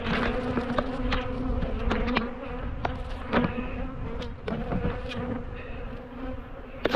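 Angry honey bees swarm around a beekeeper working the hives outdoors, a dense, continuous close buzzing with individual bees whining loudly past the microphone.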